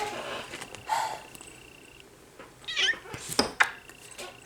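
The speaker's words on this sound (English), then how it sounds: "Don't you meow at me." A cat meows a few times indoors, short tonal calls spread across the moment with small clatters between, the sounds close and moderate in loudness.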